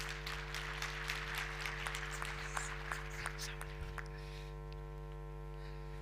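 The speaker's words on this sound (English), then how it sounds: "Round of applause for him, please." Conference audience at a rail industry panel applauding as a speaker comes up, a soft, fairly distant patter of clapping for about four seconds over steady electrical hum, then fading out.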